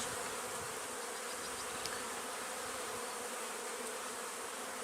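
A honeybee swarm pouring out of its hive as the queen leaves, a dense, continuous buzzing drone that fills the air steadily and loudly throughout, with no voices.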